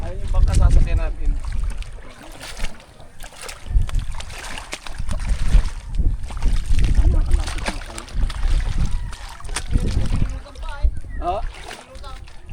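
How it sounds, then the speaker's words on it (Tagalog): A small boat on open water near an island rocks, with splashing water and wind gusting against the microphone in uneven surges, while people talk in the background. "Ayun yung bangka sasakyan natin."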